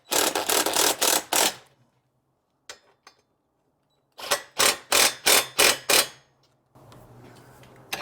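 Motorcycle rack bolts on a 2019 BMW 1250GS being snugged down with a ratcheting tool, two close bursts of quick clicking ratchet strokes separated by a brief silence, followed by faint rustling.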